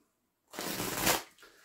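Tarot cards are shuffled in one quick riffle after a moment of silence, a brief, close, crisp flurry of card noise.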